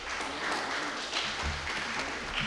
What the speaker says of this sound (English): Let's have a round of applause for Banister